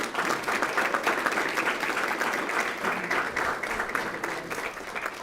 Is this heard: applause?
yes